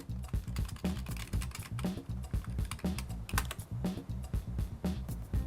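Computer keyboard keys are pressed in quick, irregular clatter, close and continuous, during work in an Excel spreadsheet.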